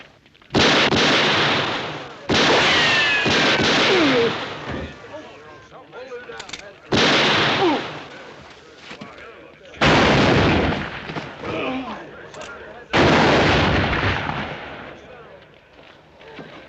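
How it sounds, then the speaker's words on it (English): A western TV shootout erupts in five loud, heavy bursts of gunfire, each volley roaring for a second or two with echoing tails and lulls between. "That's enough shooting."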